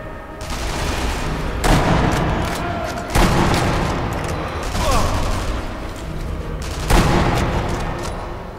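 Gunshots and explosions from the video game Sniper Elite V2, in a bunker mission, come as sharp booming blasts about every one and a half seconds over a constant rumbling battle background.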